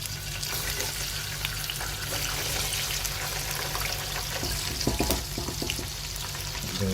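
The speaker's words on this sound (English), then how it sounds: "we've got some chips, and we are going to put that in. Try not to burn yourself." Potato chips fry in hot oil for a cheeseburger meal, a steady dense sizzle close and loud throughout, with a brief burst of bubbling crackle partway through and no speech.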